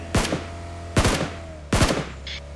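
Gunfire in the mobile battle game BGMI: three sharp, loud shots ring out separately at roughly even intervals, each with a short echoing tail and no talking over them.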